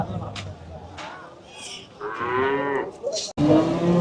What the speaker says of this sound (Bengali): দেশি গরু এগুলা।